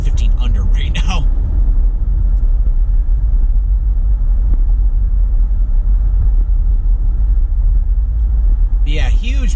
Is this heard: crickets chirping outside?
no